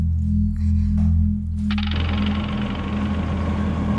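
An auto rickshaw engine chugging with a low, rough idle, then a shift to a louder, busier rattling drone, close and continuous.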